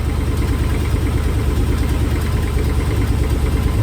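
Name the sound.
carbureted LS V8 engine idling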